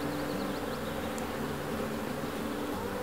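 Honeybees hum steadily around an opened wooden beehive in a village apiary after winter, a dense, continuous buzzing swarm close by with no voices.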